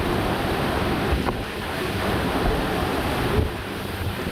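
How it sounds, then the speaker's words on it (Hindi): Strong winds from cyclone Yaas in Chandipur, Balasore, roar in a dense, continuous rush that buffets the microphone, loud and steady with faint surf-like surges. "चक्रवाती तूफान यास के यहाँ पहुँचने से घंटों पहले तेज हवाओं ने डराना शुरू कर दिया।"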